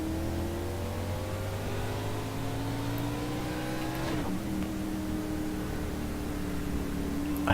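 Race cars and a pace car driving in iRacing at Atlanta in the K&N National Series, a steady loud engine drone with rising revs and a car passing close by, no talking.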